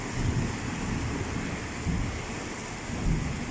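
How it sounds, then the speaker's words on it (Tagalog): Heavy rain pours down outside during a storm, a dense, steady roar of broadband hiss with low rumbling swells, continuous and loud throughout with no voices. "napakalakas ng ulan guys"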